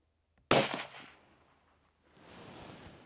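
A single loud crack from a 17 HMR rifle fired past a chronograph, close and abrupt, with a short decaying echo, then a soft rustling hiss.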